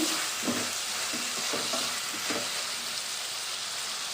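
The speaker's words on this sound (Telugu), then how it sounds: "అలా టమాటా కూడా ఫ్రై అయ్యేటప్పుడే ఈ పచ్చిరేలు కూడా ఇందులో వేసేసుకోవాలండి" Tomato and green chillies frying for a prawn masala gravy, a steady close sizzle with several scraping stirs of a spoon against the pan, no voices.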